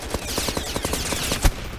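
Rapid automatic gunfire from a weapon in the Roblox shooter Aimblox, a steady burst of evenly spaced loud shots running throughout, ending with one heavier impact near the end.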